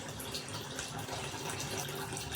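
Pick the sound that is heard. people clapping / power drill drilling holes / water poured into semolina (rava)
water poured into semolina (rava)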